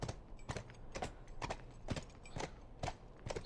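Horse hooves clip-clop at a steady walking pace in The Last of Us, about two evenly spaced hoof strikes per second, close and clear over a low game ambience with no talking.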